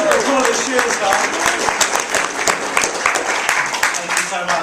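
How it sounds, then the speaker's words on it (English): Audience applause at a stage group talk ahead of a demo lecture on hypnosis for weight loss, a steady wash of many hands clapping throughout, with a voice speaking over part of it. "Can I get another round of applause for my shoes, please?"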